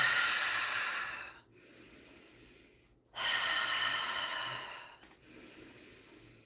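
Forceful, rapid breathing during a seated or lying breathwork exercise, with long loud breathy stretches separated by short pauses, close and unaccompanied by talk.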